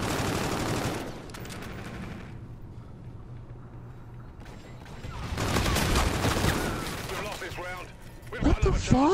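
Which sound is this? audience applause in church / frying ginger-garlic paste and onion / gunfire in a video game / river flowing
gunfire in a video game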